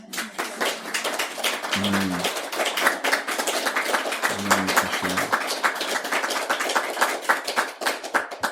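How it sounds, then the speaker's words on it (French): Applause from a religious retreat audience at Roc Estello, steady close clapping across the whole stretch while someone speaks briefly in French over it. "Que ces applaudissements aillent pour lui"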